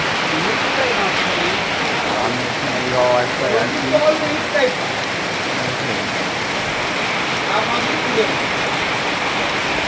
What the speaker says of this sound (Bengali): প্রচণ্ড বৃষ্টি হচ্ছে এখানে